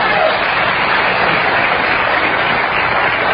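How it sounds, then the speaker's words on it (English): A studio audience applauds with steady, dense clapping that stays loud and even throughout, with no voices standing out. "They're just applauding because you got a sentence out."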